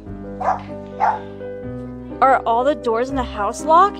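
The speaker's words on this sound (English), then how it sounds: "so her name is Chloe. That is my dog." Chloe, a pet dog inside a house, gives two short barks close by, followed by a person talking at length.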